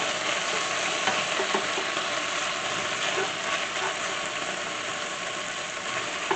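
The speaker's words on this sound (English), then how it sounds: "My bacon is cooking." Bacon frying in a cast iron kettle gives a steady, soft sizzle and crackle throughout, with faint pops and a low background hum, no talking.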